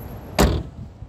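Door of a Hyundai Santa Fe closing with a single solid thump close by, followed by a brief muffled settling, with no talking.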